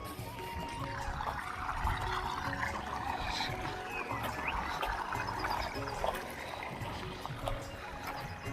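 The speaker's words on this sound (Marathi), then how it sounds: "पाणी चालू झालं इथं" Irrigation water from a motor pump flows steadily into a field being planted with maize, a continuous close rush and trickle that holds even throughout.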